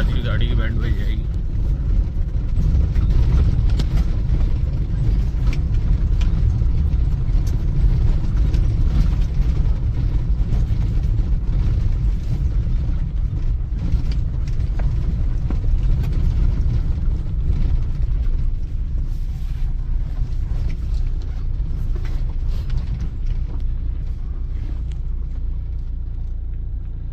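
A car drives at night along a badly broken, rough road, its engine and tyre rumble loud and continuous throughout, with bumps and rattles as it jolts along.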